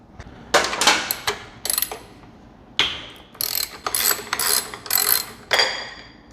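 Series of sharp ratcheting bursts from a socket wrench loosening bolts on a Yamaha YZ-450 clutch basket, close up, in short irregular spurts separated by brief pauses.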